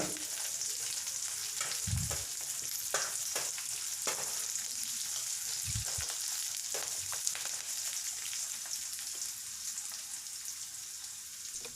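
Steady crackling sizzle of spices tempering in hot oil for sambar, with a few louder pops and scrapes of stirring, continuous throughout with no voices.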